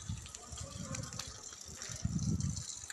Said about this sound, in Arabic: هذا المي مالتنا اللي احنا نشربه،